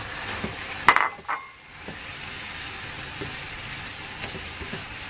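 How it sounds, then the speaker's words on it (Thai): Shrimp drop into hot, bubbling oil with a sudden loud splash and sizzle, then a steady soft frying hiss with occasional faint clinks of a pan. "เดือดเดือดอย่างนี้เราก็กุ้งใส่ลงไปเลย"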